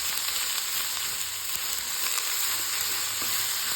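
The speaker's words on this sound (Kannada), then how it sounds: "ವೆಜಿಟೇಬಲ್ಸ್ ಹಾಕ್ಕೊಂಡಿದ್ದೀನಿ. ಸೊ ಇದಕ್ಕೆ ಚೆನ್ನಾಗಿ ಮಿಕ್ಸ್ ಕೊಡೋಣ." Vegetables for garlic rice fry in a pan with a continuous close sizzle, and faint stirring scrapes run underneath.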